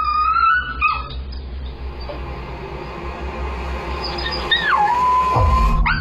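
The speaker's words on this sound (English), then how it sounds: "Then he starts howling." A puppy shut in a cage whines with a high, wavering cry, falls quiet, then lets out a rising, drawn-out howl that slides down into a steady tone, heard close with a low background hum.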